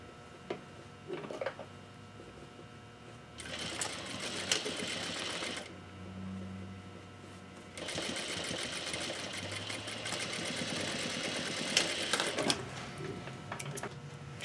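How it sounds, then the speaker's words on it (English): A sewing machine back-stitches a fabric face mask in short runs of fast, rattling stitching separated by quieter pauses, with a steady motor hum. "Be sure to back stitch all the way there."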